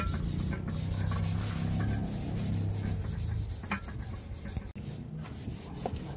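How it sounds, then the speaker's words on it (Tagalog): Steady, continuous abrasive rubbing of sandpaper across the body of a 2005 Toyota Fortuner during repainting, close and even in level, with no talk over it. "Liha."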